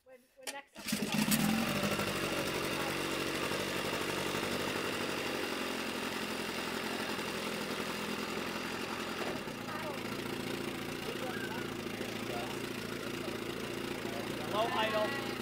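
A 1970 Evinrude 25 HP outboard boat motor starts and settles into a steady, low idle, running continuously and close, with a slight change in tone partway through.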